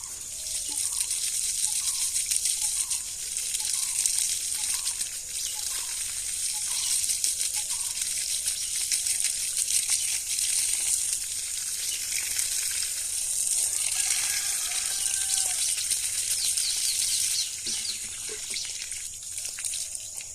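Water poured from a container into a small earthen basin around a newly planted sapling, giving a continuous trickling and splashing pour with a faint rhythmic gurgle at first, fairly close, with no talking.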